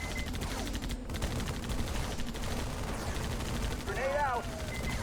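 Gunfire in the Halo Wars strategy video game, dense rapid bursts and volleys crackling steadily across the battlefield, with a brief higher electronic effect near the end.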